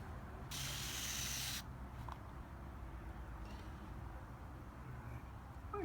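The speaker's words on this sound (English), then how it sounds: "let me spray straight across both legs" A single sustained burst of spray hisses for about a second, loud and close, followed by quiet room background.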